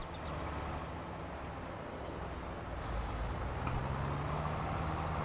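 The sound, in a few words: tractor engine in video game Farming Simulator 22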